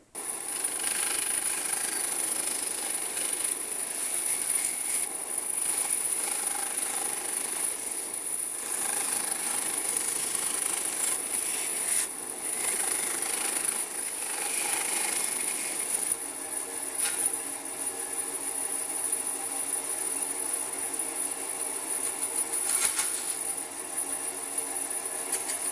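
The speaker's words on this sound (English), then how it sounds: "we'll go over to the bandsaw" A bandsaw fitted with a Timber King blade cuts through wood, a steady loud machine whine and rasp that runs throughout, with the tone shifting partway through as the cut changes.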